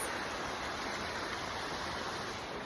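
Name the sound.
creek with waterfalls flowing beside a hiking trail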